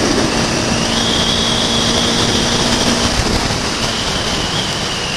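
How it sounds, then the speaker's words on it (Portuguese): A Honda CB Twister 250F motorcycle on the road, heard as a loud, constant roar of engine and rushing wind with no break and no voices. "Essa motinha é demais,"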